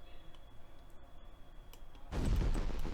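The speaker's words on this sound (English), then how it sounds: "I want to test the fireworks to make sure they work." Fireworks in the space game Kerbal Space Program burst suddenly after a quiet stretch of faint hum, with a loud crackling blast near the end.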